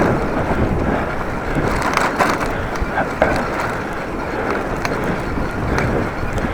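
Heavy wind gusts buffeting a cyclist riding in very strong weather, a loud, continuous low roar and rumble of wind across the microphone.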